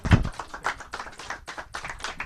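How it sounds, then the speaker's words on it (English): An audience applauds as two authors come out on stage at a book event, a dense patter of claps from a near crowd, strongest at the start and continuing steadily without any voices. "And keep that applause going."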